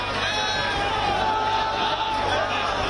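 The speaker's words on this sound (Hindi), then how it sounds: "कार्यकर्ताओं की भारी भीड़ भी दिखाई दे रही है।" Large crowd of BJP party workers at a political protest in Raipur, a dense continuous roar of many voices with shouts and cheers throughout, loud and steady with no pauses.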